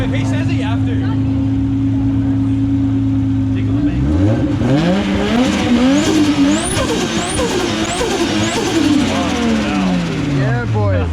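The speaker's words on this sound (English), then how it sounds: "Alright, so I'm gonna go rev my car right now." Built turbocharged RB25DET engine in an R33 revving hard at a car meet, steady idle drone then repeated sharp climbs bouncing off the limiter, loud and close, with people talking and cheering over it.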